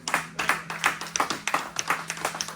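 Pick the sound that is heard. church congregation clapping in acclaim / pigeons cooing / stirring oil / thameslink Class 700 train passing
church congregation clapping in acclaim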